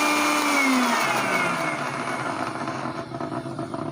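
A Panasonic mixer grinder runs at full power with its lid on, a loud, steady motor whine and whirring roar that holds throughout and roughens slightly toward the end.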